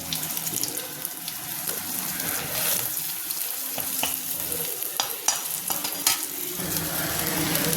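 Okra coated in gram flour fries in oil, making a dense, wet sizzle close by with scattered sharp pops and crackles and some stirring clatter.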